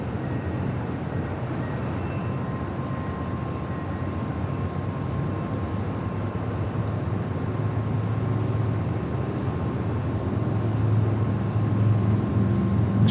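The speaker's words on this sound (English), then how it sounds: "Volaris Flight 5192 coming in from Guatemala City" An Airbus A320neo arriving at Los Angeles International Airport from Guatemala City gives a steady low, distant jet rumble that holds evenly throughout, with no voices.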